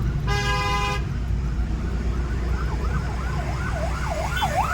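A wailing ambulance siren rises and falls in quick cycles over steady road rumble on the Salem to Hosur highway at Thoppur, preceded by a brief blaring vehicle horn.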